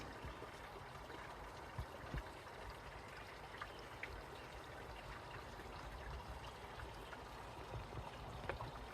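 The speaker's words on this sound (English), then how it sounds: "It's a very small creek." Very small creek running down a hill, giving a faint, steady trickle and babble of water with occasional soft splashes outdoors.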